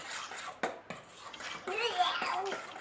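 Spicy homemade pizza sauce is stirred in a pot in a home kitchen, with a spoon clinking and scraping against the metal in uneven bursts while a voice talks.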